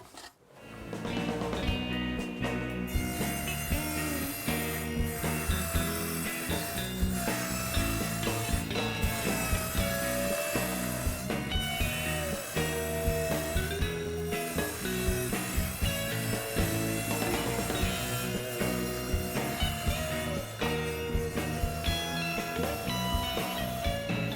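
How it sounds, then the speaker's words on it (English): A table saw fitted with dado blades cuts a groove into a wooden backboard, spinning up and then grinding through the wood in a long, sustained, loud whine and rasp, steady for over twenty seconds. "I've set the fence at 1/4 inch away from the blades, and that's going to cut the groove in our backboard to accommodate that tongue"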